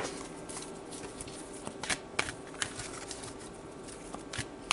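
Advice cards are shuffled and pulled from the deck, making a run of soft riffling patters and sharp flicks scattered irregularly over a faint background hum, with no one speaking.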